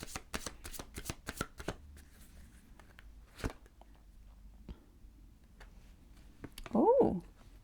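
Doreen Virtue Angel Advice cards are shuffled in a quick burst of crisp riffling snaps at the start, followed by sparse card taps and a brief sharp sound near the end.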